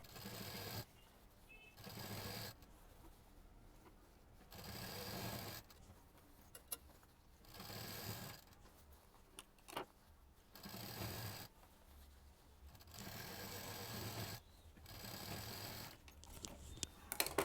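Domestic sewing machine stitching a fabric seam, doubling back over the joins and belt section, running in repeated bursts of steady whirring with short pauses between passes, close and fairly quiet.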